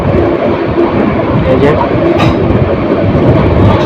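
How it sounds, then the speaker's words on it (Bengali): The Mohanagar Provati Express runs into Tongi Junction on the Dhaka–Bhairab route with a loud, steady roar of wheels and engine rumble filling the whole stretch close by. "ট্রেনটি টঙ্গি জংশনে প্রবেশ করেছে"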